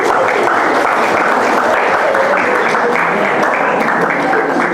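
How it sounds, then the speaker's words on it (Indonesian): A church congregation applauds, dense sustained clapping from many hands at close range, loud and even throughout with no pauses. "Tepuk tangan dong."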